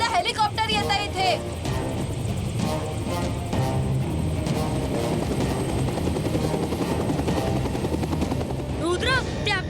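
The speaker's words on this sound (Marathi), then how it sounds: "मला वाटतं एखादा हेलिकॉप्टर येत आहे इथे." A helicopter's loud, steady rotor thump fills the scene as it approaches, with brief speech over it at the start and the end.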